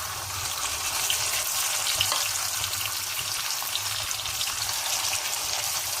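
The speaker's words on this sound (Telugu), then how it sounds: "చూడండి, ఈ ఆయిల్లో బాగా ఈ వంకాయలు డీప్ ఫ్రై అవ్వాలి" Brinjals deep fry in hot oil, a dense continuous sizzle and crackle that stays close and steady throughout with no one talking.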